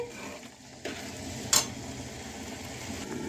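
Turnips (shalgam) being stirred in a pan, a soft steady scraping and low sizzle with one sharp utensil clink near the middle, no voices.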